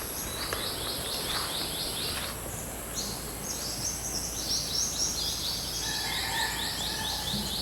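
Birds sing and trill steadily over a dense bed of chirping insects, a continuous outdoor chorus with no voices, in a quiet field on Siargao island, Philippines.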